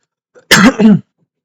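A person who is feeling unwell gives a sharp, close cough that breaks into two quick raspy bursts, like clearing the throat, with silence before and after.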